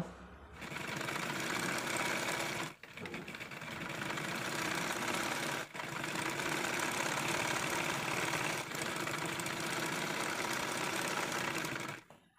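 A sewing machine stitches the side seam of a frock-style nighty with a steady, fast mechanical hum. It stops briefly twice before going quiet at the end.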